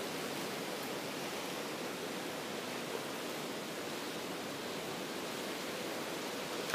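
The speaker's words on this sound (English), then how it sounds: "Definitely just started to rain more." Hurricane Irma drives heavy rain and gusting wind in a dense, unbroken roar of broadband noise, loud and steady throughout with no voices.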